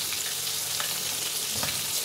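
Dense, continuous hiss of bone-in chicken pieces deep frying in hot oil over a medium flame for homemade KFC-style chicken, close and steady with faint bubbling pops.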